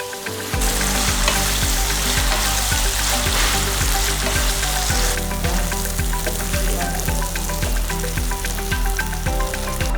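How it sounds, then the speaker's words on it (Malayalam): Chicken fries loudly in a few tablespoons of hot oil for spicy Irani pola, a dense steady sizzle with crackling pops throughout and no voices. "ചിക്കൻ നന്നായിട്ട് ഫ്രൈ ആയിട്ടുണ്ട്."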